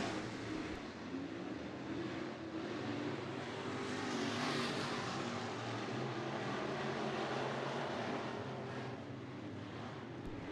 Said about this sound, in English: IMCA Northern Sport Mod Heat Race number 1 underway